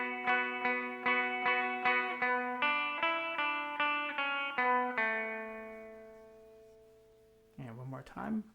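Electric guitar playing a riff, a run of rhythmic picked notes shifting in pitch, then a held ringing note decaying away before a brief burst of sound at the end.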